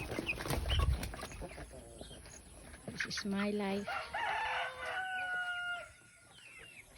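A rooster crows loudly nearby in a long drawn-out call amid surrounding hen clucks, while a person speaks briefly over the birds.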